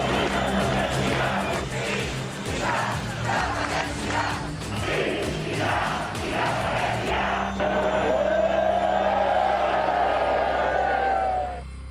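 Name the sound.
crowds cheering outside Catalan parliament after independence vote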